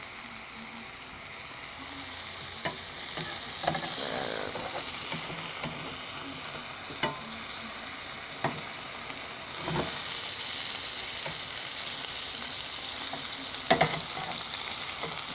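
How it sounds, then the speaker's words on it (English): Sausages sizzling and frying in a pan, a continuous crackling hiss with occasional sharp pops and scrapes, close by and without talk. "Just keep on frying them till they get done."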